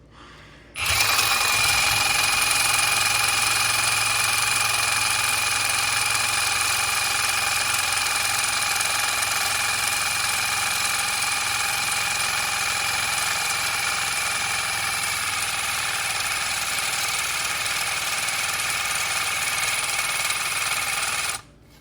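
A steady power tool cuts aluminum header parts for a third-generation F-body car, running loud and continuous for about twenty seconds with a bright, high-pitched whine and no talk.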